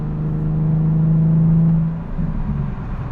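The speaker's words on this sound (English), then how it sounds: "that exhaust is awesome. It's got some burbles even with stock tune" Stock-tuned Nissan 370Z with an ISR catback exhaust and Y-pipe, a steady low drone that swells and then breaks into uneven burbling pops, close and loud with no voices.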